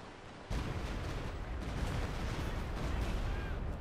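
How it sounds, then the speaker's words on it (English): Rocket artillery in Company of Heroes 2 lets loose a barrage of six rockets, a sudden onset that becomes a dense, sustained rumbling roar of blasts lasting several seconds at steady loudness. "Another barrage there of 6 rockets"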